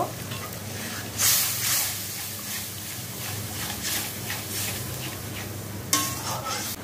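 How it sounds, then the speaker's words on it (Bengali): Spice paste frying in a pan with a splash of water: steady bubbling sizzle with a few louder bursts, and a utensil stirring and scraping against the pot, close up and without speech. "আমি আর কিছুটা জল দিয়ে মশলাটা আরেকটু ভালো করে কষিয়ে নিব।"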